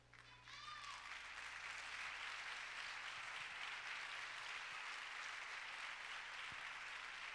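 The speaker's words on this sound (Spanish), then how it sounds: "Si puedes darle un aplauso a Cristo" A church congregation breaks into applause, building quickly from near silence into a broad, steady wash of clapping that holds at a moderate distance.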